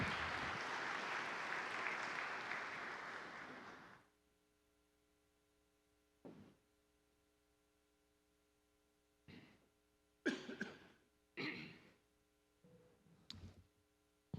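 Audience applause welcoming Chief Tim Roddy as a speaker at St. Michael the Archangel church, a dense, steady clapping for about four seconds that cuts off, followed by quiet hum and a few short knocks and rustles.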